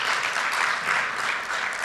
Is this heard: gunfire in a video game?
no